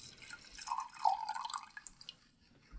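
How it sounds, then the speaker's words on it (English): Red Malbec wine pours from a bottle into a glass with faint trickling, gurgling splashes that build and then taper off, quiet and close, with no speech. "pours a Malbec."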